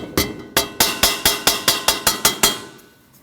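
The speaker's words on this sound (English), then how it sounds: "I'm just using a typical hammer and a spacer from the tool that removes your bearing" A hammer strikes a spacer about ten times in a steady rhythm, tapping a new rear wheel bearing seal into a 2003-2008 Subaru Forester hub, each sharp ringing tap close by and decaying quickly, then silence.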